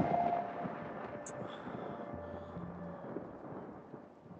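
Rain and rolling thunder from a film scene, a steady broad wash of rainfall with low rumbling building underneath, fairly distant and continuous.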